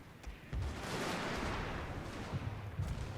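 Cannon fire from a Fall of the Samurai battle, heard as a sustained, loud, rumbling barrage of booming shots that starts about half a second in and rolls on to the end, with no talking.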